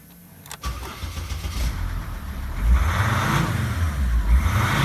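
A Mercedes ML W163 with the 2.7 CDI OM612 diesel engine cranks and fires, then settles into a steady, close, rumbling run that grows a little louder partway through.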